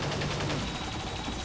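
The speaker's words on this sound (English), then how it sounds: "Is that cannon firing?" Cannon firing in XCOM 2, a dense rumbling barrage of distant booms blending into a continuous roar over its short span, with no voices.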